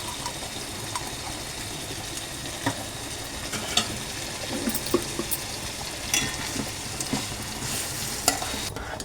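Marinated chicken with a little ghee being stirred in a cooking pot, giving a steady soft sizzle with occasional scraping clinks throughout.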